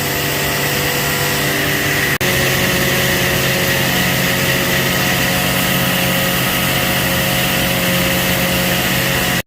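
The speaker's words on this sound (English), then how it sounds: "I see the unload auger." The unload auger of a combine harvester runs during corn harvest, making a loud, steady mechanical drone with a sharp click partway through and no break in the hum.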